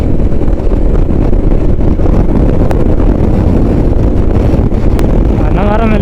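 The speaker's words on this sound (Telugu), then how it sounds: "గాలి దొబ్బుతుంది రయ్యా." Strong wind buffets the microphone on a motorcycle ride along the Vijayawada to Annavaram highway toward Visakhapatnam, a loud steady roar filling the whole stretch with faint tonal whines near the end.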